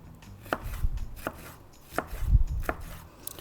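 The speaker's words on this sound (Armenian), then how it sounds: "մնում է այնտեղ միան լոլիկը կտրատել եւ կարմիր սոխը" A knife chops tomato and red onion for a salad on a board, with about seven crisp, evenly spaced strokes close by and no voices.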